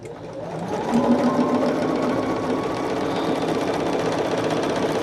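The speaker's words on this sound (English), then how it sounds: "But I am sewing this together here." A sewing machine runs steadily while stitching a fabric picnic caddy together, a continuous close whir that picks up speed in the first second and then holds an even, rapid rhythm throughout without talk.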